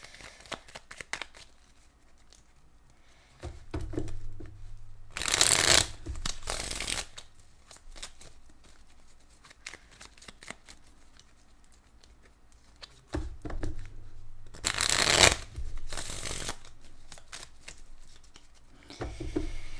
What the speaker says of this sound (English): So many decks to shuffle.